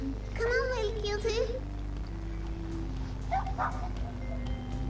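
A puppy in the video game Little Misfortune gives a few short yips and whimpering barks near the start and again later, heard close over a steady game background, with no talk over it.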